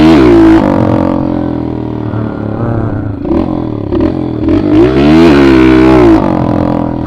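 Snowmobile ridden through deep snow, its engine buzzing loud and close with rising and falling revs as the throttle is worked, plus scraping and clattering as the sled pushes through the snow.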